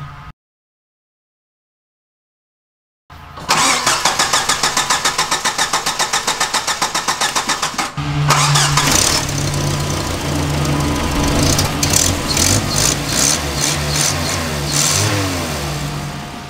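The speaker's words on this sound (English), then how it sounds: "So we're gonna put it on boost and we're gonna try to start the Jeep." A Jeep engine cranks rapidly and catches with help from a Gooloo GP3000 jump starter, then settles and revs up and down repeatedly, loud and close, with no talking.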